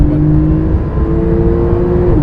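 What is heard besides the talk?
Porsche 991.2 Turbo S accelerating through third and fourth gear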